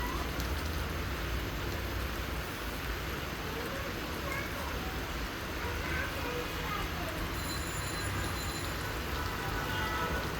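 A large wok of mixed vegetables with taro stolons, chili powder and spices sizzles steadily, a dense continuous hiss like rain that stays even and fairly close throughout.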